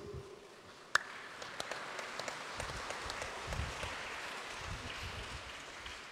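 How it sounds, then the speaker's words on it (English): Congregation at a church Mass applauding together: a sudden sharp clap, then a steady, fairly faint wash of many hands clapping, mid-distance, with no talk over it. "Let us clap our hands for this truth."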